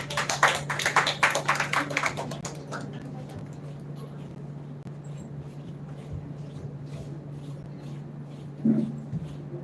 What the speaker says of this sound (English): Let us welcome Darren Littleton to the stage with a warm welcome,